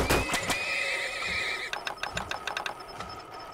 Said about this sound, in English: 15 horses we have working here.